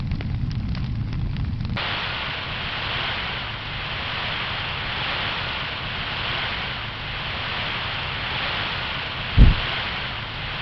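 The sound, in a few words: fire and explosions in Truckology video game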